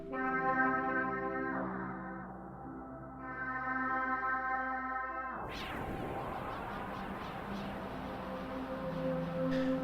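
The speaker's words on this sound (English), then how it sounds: "What I'm turning is the delay. Sets the delay time in milliseconds." An effects unit's delay time is being adjusted, the sustained tonal layers wavering then giving way near the middle to a sudden burst and a smeared, echoing wash that carries on to the end.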